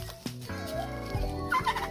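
Farm turkeys gobble in quick, excited bursts, several rippling calls overlapping close by with no talk.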